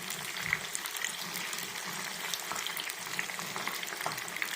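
Fish pakora deep-fries in hot oil, a steady crackling bubble and sizzle that carries on evenly throughout, with a few faint pops and clinks.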